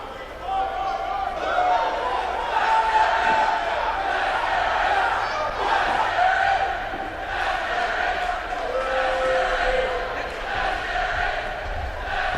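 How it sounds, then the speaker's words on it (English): A championship-match crowd cheers and roars for the reigning world champion, a continuous loud wall of voices with scattered whoops, under a commentator's talk. "His crowd is behind him."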